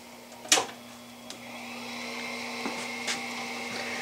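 An Atlas Craftsman lathe runs with its power feed reversed, giving a faint steady motor hum and whine with a sharp click near the start and a few light knocks.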